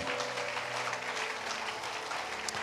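A church congregation applauding and cheering to acclaim God during a French sermon; dense, continuous clapping and crowd noise with a sustained organ or keyboard tone underneath.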